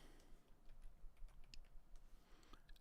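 Computer keyboard typing on its own separately recorded track, a quiet, irregular patter of light key clicks close by, with no talk.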